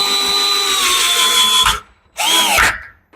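Power drill driving screws to tighten a door latch plate during a door knob and deadbolt replacement: two loud, close whirring bursts with a short pause between them and rising pitch as the screw seats.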